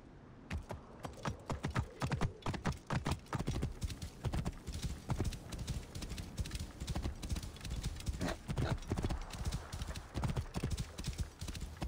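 Horse hooves clip-clop in a fast, continuous galloping rhythm in the video game Assassin's Creed Origins, with a possible brief whinny among the steady hoofbeats.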